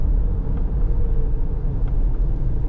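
A 2026 Chevrolet Equinox LT AWD engine drones steadily from inside the cabin as it downshifts on the paddles, a dense low rumble mixed with road noise, with no one speaking.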